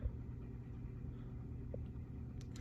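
An old, rusty Emerson desk fan running on its low setting, giving a faint, steady low hum and soft whirr with no voices.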